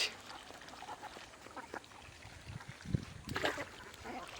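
Ducks released onto a village pond give a few scattered quacks, soft and moderately distant, with small splashes and quiet outdoor ambience between calls.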